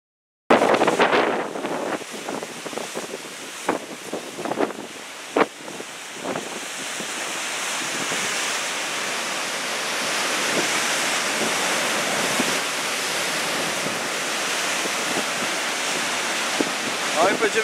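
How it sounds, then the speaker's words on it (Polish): Storm Ciara's rough sea surging against rocks on the Isle of Man: several sharp crashing bursts give way to a continuous, loud roar of surf and wind close by. "No i będziemy mokrzy, idzie fala."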